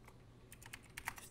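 Fingers type on a computer keyboard during a gaming podcast, producing a quick, faint burst of soft key clicks over about a second.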